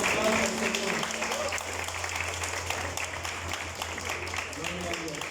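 A church congregation breaks into applause that holds steady for several seconds, moderately distant, with voices mixing into the clapping.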